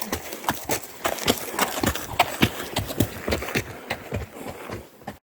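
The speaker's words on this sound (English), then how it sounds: "I looked down and saw the horse" Horse hooves clip-clop along a Scottish hill track in May, a quick irregular run of thuds coming close, loud and uneven before thinning out at the end.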